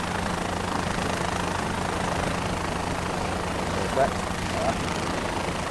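A video game helicopter engine gives a steady low droning hum that runs continuously under a brief spoken word.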